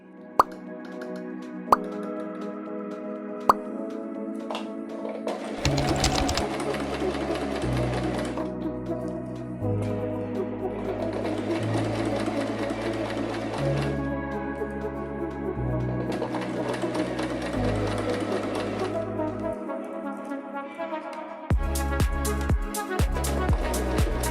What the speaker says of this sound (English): we're gonna use a straight stitch to sew all these 3 layers together